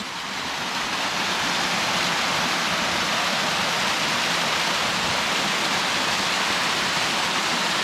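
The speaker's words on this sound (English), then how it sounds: "Not the biggest waterfall in the world," A small waterfall runs fast and steady, a dense, continuous rush of falling water that stays loud and even from start to finish with no voices over it.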